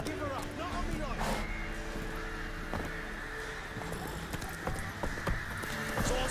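Horse hooves clip-clopping at a steady, rhythmic pace in The Witcher 3, close and fairly loud over game music and ambience, with talk heard over them.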